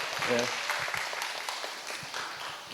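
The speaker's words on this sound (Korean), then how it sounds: "박수 한번 해줘." An audience at a camp for North Korean defectors applauds a speaker with a steady wash of clapping. A voice speaks briefly over it near the start.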